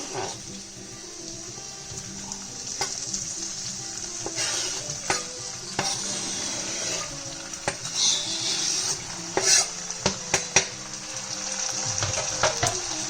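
Chopped tomatoes sizzle in a pan for a butter chicken sauce, a continuous bright hiss with scattered spatula scrapes and clacks as they are gently mixed, louder knocks near the end, no speech.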